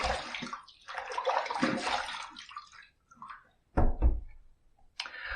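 A Fatip Dorato Grande closed-comb safety razor is rinsed under running water, with splashing bursts broken by short pauses and a few knocks against the basin.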